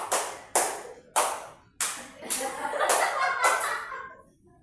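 A person claps hands sharply to mimic slapping mosquitoes, several distinct loud claps at roughly even spacing, then a quicker run of softer claps that blur together and fade.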